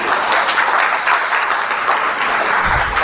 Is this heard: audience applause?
yes